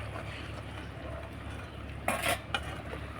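A spoon scrapes and stirs melted jaggery and grated coconut filling in a pan for a sweet pitha, soft muffled stirring with a quiet background hum, then a couple of sharper metallic clinks near the end.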